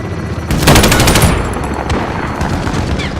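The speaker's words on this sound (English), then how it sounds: "Allied chopper gunner arriving now." A helicopter chopper gunner fires a machine gun in a Battlefield game, a loud, rapid burst of automatic shots lasting about a second, followed by scattered distant gunfire.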